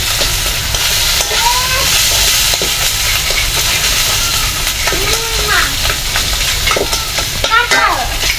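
Snakehead (shol) fish fries in spice masala with a loud, constant close sizzle and hiss, stirred throughout, while faint voices drift in the background.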